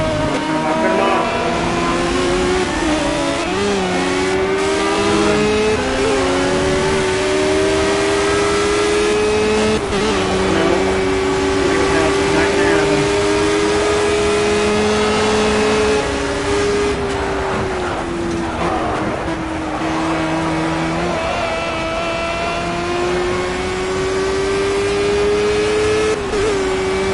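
A Formula One car engine in the racing video game Project CARS wails steadily and loudly throughout, its pitch rising and dipping gently through gear changes and corners, with no talking over it.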